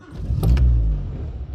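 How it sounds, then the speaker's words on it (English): A 1966 Triumph TR4A with independent rear suspension cranks over and catches, its engine rising to a loud low rumble before settling into a steady idle, heard close up. "we'll show you start up and idling on this TR4a IRS"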